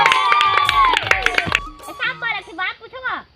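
A small audience of children claps briefly before a village snake-charmer show, a quick burst of scattered hand claps mixed with voices, then speech continues alone.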